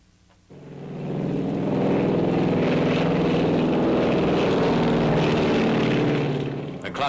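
A B-25 bomber flies during high and low altitude bomb cluster tests at Edgewood Arsenal, its propeller engines setting up a loud, steady drone that begins suddenly and holds for several seconds.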